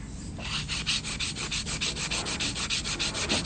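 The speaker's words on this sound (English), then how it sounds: "Now we're gonna move into hand filing. We're gonna separate the skin from the acrylic." A hand-held nail file rasps back and forth across an acrylic nail, close and steady, with quick even strokes repeating roughly five or six times a second and no talking.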